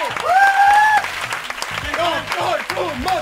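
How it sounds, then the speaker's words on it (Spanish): A studio audience at a late-night radio show applauds a guest, a loud burst of clapping heard under a host's voice, with sung or whooped tones rising above it near the start. "Fuerte aplauso para el doctor Somozas."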